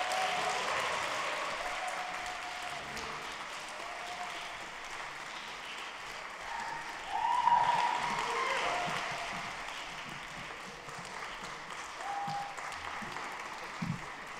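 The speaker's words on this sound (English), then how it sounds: "Can we give them a round of applause?" Audience at a 2017 symposium applauding as staff are introduced, a steady wash of clapping that swells briefly midway and carries on at moderate level without talk.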